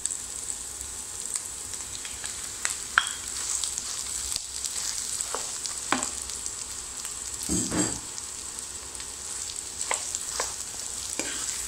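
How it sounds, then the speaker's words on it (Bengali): Mashed potato fries with onions in a pan under a constant, moderate sizzle, broken by occasional scrapes and taps as a spoon stirs the mixture. "নেড়ে চেড়ে একটু ভাজতে হবে আলুটা ভালো করে একটু ভেজে নিতে হবে পেঁয়াজের মধ্যে।"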